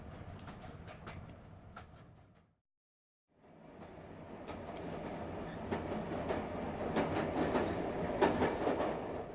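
Steady rumble of a train travelling on rails, used as a radio play sound effect, with rhythmic clicking of wheels; the noise fades out briefly, then returns and builds to a fuller, louder rolling din.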